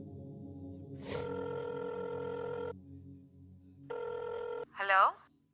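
Telephone bell ringing in two long unanswered bursts separated by a pause, steady and fairly loud, with a brief voice or gasp right after the second ring.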